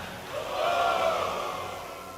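Large live crowd at a League of Legends EU vs Moscow 5 semifinal esports match, a sustained roar of cheering that swells and then slowly fades, with no clear speech.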